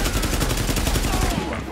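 Gunfire in The Division video game: a dense, rapid burst of shots fired in quick rhythmic succession, close and loud, with a possible voice faintly underneath.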